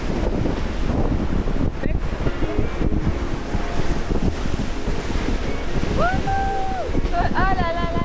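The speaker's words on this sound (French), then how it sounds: "Regardez les vagues" Waves crash and wash continuously amid heavy wind noise, a constant loud roar, with a voice speaking briefly near the end.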